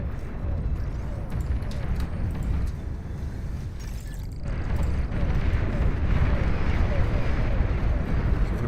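Nuclear missile launch in the strategy game Beyond All Reason: a deep, continuous roaring rumble that swells louder partway through, with a heavy low-end surge under light background game noise.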